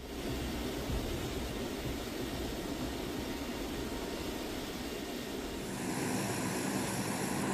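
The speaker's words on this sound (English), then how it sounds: "The four Allison T-56 turboprop engines powering the Hercules follow a sequence during engine startup." C-130 Hercules transport aircraft with four Allison T-56 turboprop engines, a steady loud droning roar of engines and propellers held throughout, with a slight shift in tone near the end.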